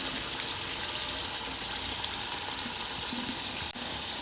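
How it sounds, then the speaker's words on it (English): Paneer puffs deep-frying in hot oil give a loud, dense, continuous sizzle and crackle close up that holds steady for about four seconds before a brief dip. "We are going to fry it till it's golden brown"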